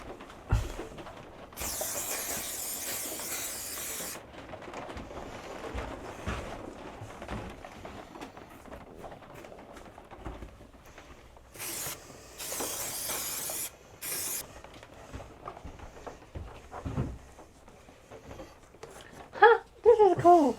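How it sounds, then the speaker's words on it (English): Spray adhesive hissing from a can onto the ceiling of a Mercedes Sprinter van during a ceiling-cladding build, in several broad bursts of a few seconds each, with people talking around the spraying. "And we've run out of spray glue."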